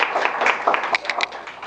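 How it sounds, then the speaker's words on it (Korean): Scattered clapping rises from a small audience at an idea-concert seminar as a company head is introduced, a brief patter of separate claps that thins out quickly. "박수 부탁드리겠습니다."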